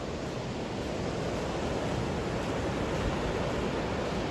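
Ocean waves wash onto a beach with a broad, steady roar of surf, continuous and fairly loud with no pauses or voices.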